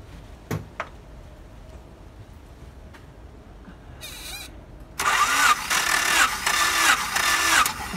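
Engine cranked over by its starter during a compression test, with faint clicks in a quiet stretch, then loud rhythmic chugging that pulses steadily for the last few seconds.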